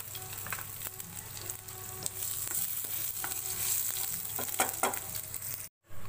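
Ginger, dry red chilli and panch phoron sizzling in hot oil for a dal tempering, a steady bright frying hiss with close scraping stirs throughout.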